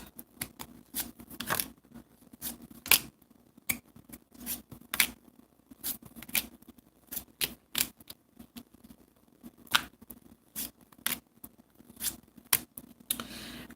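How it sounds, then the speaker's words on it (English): Tarot cards laid out one by one on a surface: soft, quiet flicks and taps in an irregular series of short, close snaps with faint background hum and no talk. "I'm going to lay out the cards."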